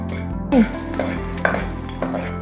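Oil sizzles steadily in a pan as chopped garlic fries to light golden, with a few scrapes and clinks of a spoon stirring.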